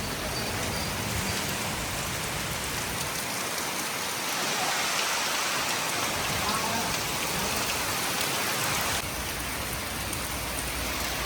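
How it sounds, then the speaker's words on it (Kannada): Heavy rain falls steadily and hisses loudly and evenly across the whole clip, with no voices heard. "ಮಳೆ ಮಳೆ"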